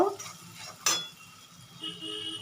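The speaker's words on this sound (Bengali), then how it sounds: "এবার মশলাটা একটু কষিয়ে নেব।" A spice masala with Kashmiri chili powder is stirred and fried in a pan: a soft sizzle runs underneath, broken by one sharp scrape of the spoon against the pan, with no talking.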